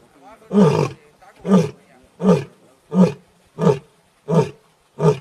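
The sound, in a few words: Gir lion roaring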